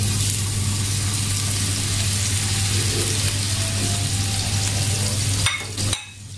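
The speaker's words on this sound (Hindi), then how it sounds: "तो मैं इनको घी में फ्राई कर रही हूँ" Chapli kababs fry in ghee with a loud, steady close sizzle that runs continuously, then cuts out abruptly near the end.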